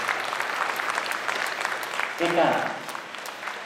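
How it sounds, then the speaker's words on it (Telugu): Applause from a seated audience at a stage event, a dense steady clatter of clapping that swells slightly partway through while a single spoken word briefly sounds over it. "మనమందరం ఒక్కసారి మన చప్పట్లతో వారిని అభినందించాలి"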